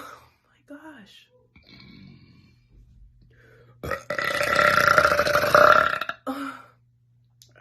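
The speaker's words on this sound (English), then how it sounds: "I cannot stop burping." A woman lets out a long, deep, bassy burp that rumbles loudly for about two seconds, with quieter breathy vocal sounds before and after.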